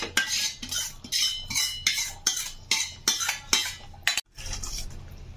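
A metal spoon stirs tempering into hotel-style tiffin sambar in a pot, with about ten rhythmic scraping clinks against the vessel, close and fairly loud, ending in a final clatter.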